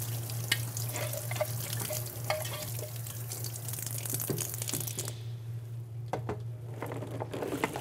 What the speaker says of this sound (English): I'm just going to wash out all pieces.